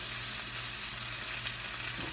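Lemon butter sauce with lemon juice and garlic sizzles and bubbles steadily in a hot skillet, a dense, continuous frying hiss with no talk over it.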